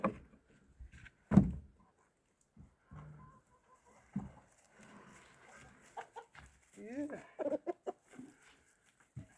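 Chickens and a rooster let out of a coop in the morning, with a few soft clucks and short calls scattered among a door knock and quiet talk.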